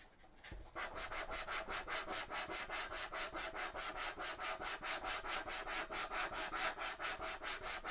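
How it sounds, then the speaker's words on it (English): Very fine sandpaper rubbed briskly back and forth over a hobby model's thigh armour piece, with steady, even, rapid strokes that are close and fairly soft, and no voices. "this is a very fine sandpaper"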